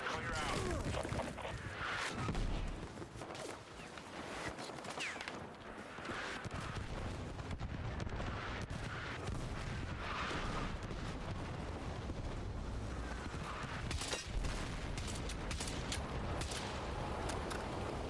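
Airstrike explosions in the video game Battlefield 6 roll on as a dense, continuous wall of booming blasts and crackling detonations, with heavier bursts rising out of the din throughout.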